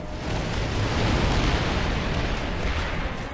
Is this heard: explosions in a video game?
yes